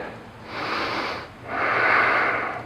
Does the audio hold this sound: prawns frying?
no